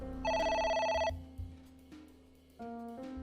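A telephone rings in the video game AI: The Somnium Files, a loud repeating electronic bell burst that cuts off, followed by quieter tonal game music and a second shorter tone.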